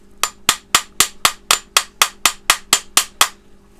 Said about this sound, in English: I'm just going to give a little tap